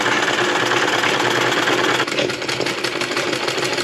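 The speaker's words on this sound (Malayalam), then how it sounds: "ഈ ഒരു മെഷീനിലാണ് നമ്മൾ ഇതൊക്കെ തയ്ക്കുന്നത് അല്ലേ?" An electric sewing machine runs steadily while stitching thread pictures in a craft workshop, a dense continuous mechanical whir that stays loud and close throughout, with a slight change in texture halfway through.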